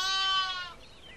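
Sheep bleating once, a single close, loud, tremulous call that lasts under a second and then fades into quiet outdoor air.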